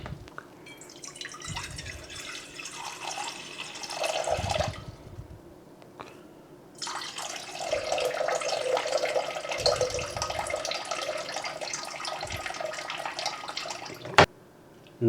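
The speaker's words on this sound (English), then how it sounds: "312 grams of water." Water pours from a tap into a bowl on a kitchen scale for a sourdough dough. Two steady, hissing runs are split by a short pause, close by and fairly quiet.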